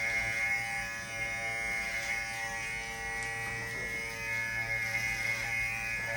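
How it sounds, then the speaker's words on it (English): Electric hair clippers buzz steadily and close up while cutting a fade on a customer's hair, with a constant motor whine running unbroken throughout. "Notice how I'm not taking the clipper all the way up to that part line."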